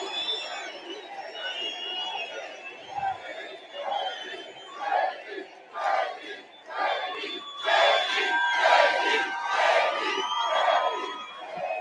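Large outdoor crowd at a Trump political rally in Butler, Pennsylvania cheers and roars in rising and falling waves, loud chants and shouts swelling repeatedly, with some talking mixed in.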